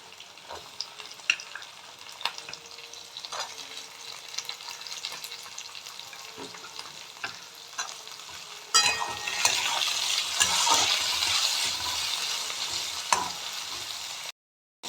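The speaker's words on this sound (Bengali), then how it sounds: "এইগুলো একটু ভেজে নেব আমি।" Capsicum, bell pepper and peas frying in a pan for mixed rice, a quiet crackle with scattered stirring clicks that swells into a louder, steady sizzle partway through before cutting off.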